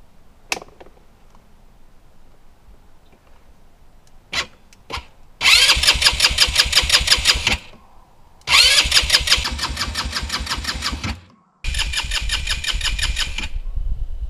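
An ATV quad bike in a field is cranked repeatedly: a few faint clicks, then three long bursts of fast, even starter-and-engine chugging, loud and close, separated by pauses, with no talk.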